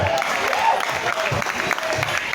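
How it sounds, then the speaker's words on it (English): Applause and cheering from a crowd at a Red Bull dance workshop, a brief noisy wash of clapping mixed with voices. "Right, applause for them."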